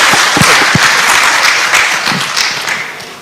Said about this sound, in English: clap for them as they...